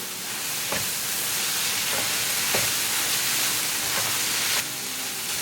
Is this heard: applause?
no